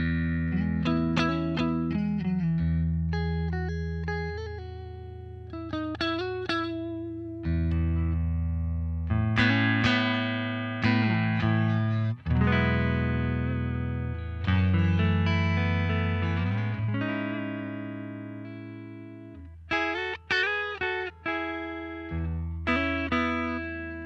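Clean electric guitar through a Fender Jack White Pano Verb tube amp with neutral EQ, playing chords and single-note runs, bright and dry with no reverb or tremolo, each phrase ringing out and decaying naturally.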